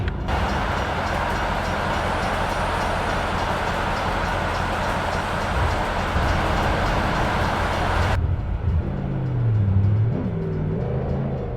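A train rolls past in American Truck Simulator as a loud broadband roar with rumbling wheels, cutting off abruptly to leave a pickup truck's lower engine drone shifting in pitch.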